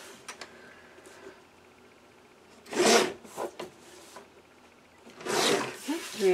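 Cardstock being cut to 3 1/4 by 4 1/2 inches for a mini album project, heard as a few short scraping, rasping strokes close by, separated by quiet gaps.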